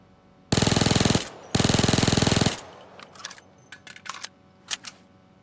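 Micro Uzi submachine gun in Payday 2 fires two loud, rapid full-auto bursts of roughly a second each, separated by a brief pause, followed by a few quieter clinks and rattles as the reverb fades.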